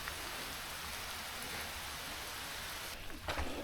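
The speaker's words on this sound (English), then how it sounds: "It's just rain." Steady rain falling at the Monte Alban ruins in Oaxaca, a continuous hiss of drops on surfaces at moderate loudness, with a brief rustling bump near the end.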